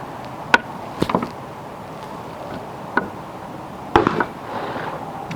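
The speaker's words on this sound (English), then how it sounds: "I had taken some older but not black powder, 32 Smith and Wesson rounds." A .32 Smith and Wesson revolver fires older non-black-powder rounds outdoors, a few sharp, separate cracks spaced irregularly, some followed by short echoes, with no talking.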